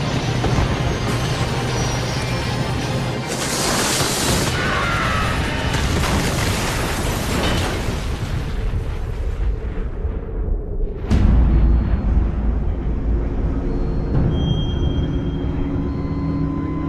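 Arrow 1285 airliner crashing just past runway 22 near Gander, dramatised: a dense, continuous roar of rushing noise and rumbling, broken by a heavy low impact boom near the end that leaves a lingering, churning rumble.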